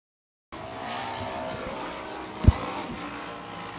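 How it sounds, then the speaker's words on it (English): After a moment of silence, a pack of Youth 1000 race vehicles launches off the starting line with a sudden loud roar of engines, broken by one sharp thump. "we're back with the green flag waving in the Youth 1000s off the line to the top of the hill"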